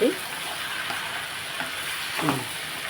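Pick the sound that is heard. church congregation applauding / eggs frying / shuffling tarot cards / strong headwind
eggs frying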